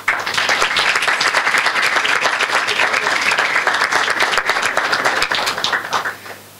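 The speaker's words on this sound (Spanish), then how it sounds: "Un aplauso, por favor." An audience at a school debate tournament breaks into dense, sustained applause that fills the room at full strength, then fades out near the end.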